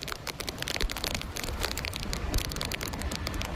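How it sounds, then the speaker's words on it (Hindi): Heavy rain pours down steadily, a dense hiss of drops pattering and crackling on surfaces without a break. "कुछ ही मिनटों में बारिश ने अपना पूरा जोर दिखा दिया"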